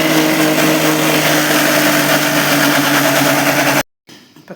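A kitchen mixer grinder blending coconut and tomato in its jar, a loud, steady, close-up motor whine that cuts off abruptly near the end, leaving a brief quieter rattle.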